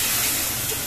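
Spice paste hitting hot oil in a home kitchen pan, giving a steady, loud broadband sizzle that holds evenly throughout the short moment with no talk over it.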